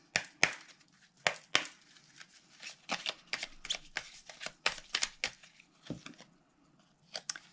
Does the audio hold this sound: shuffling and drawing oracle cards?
yes